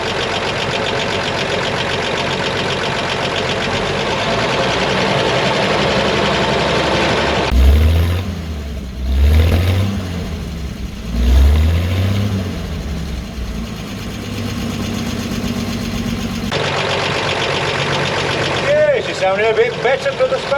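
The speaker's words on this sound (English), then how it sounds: "She's currently on a fast idle on the carburettor, hence the increased" A WW2-era Karrier K6 truck engine runs on a carburettor fast idle, a steady, raised tick-over rumble throughout with a few heavier low thumps partway through.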